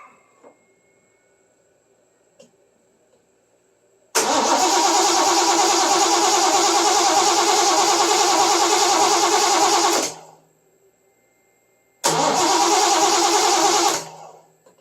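A 1970 Triumph TR6 engine cranks and fires, running loudly and steadily for about six seconds before cutting out, then briefly starting and running again for two seconds.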